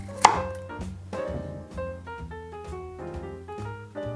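A knife chopping a carrot on a board: a few sharp cuts, one louder early chop, close and clear beneath soft background music.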